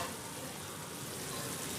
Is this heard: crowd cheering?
no